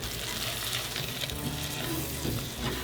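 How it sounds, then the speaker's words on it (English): Butter melting with flour in a pan for a roux, sizzling and frying steadily at an even, close level throughout with no talking. "Start with a couple tablespoons of butter and a couple tablespoons of flour."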